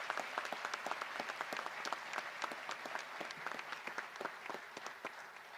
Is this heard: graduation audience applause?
yes